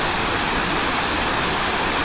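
Clear river water rushes near Peñafrancia Resort in Naga City, Camarines Sur, Philippines, a close, constant hiss of flowing water with no other sounds over it.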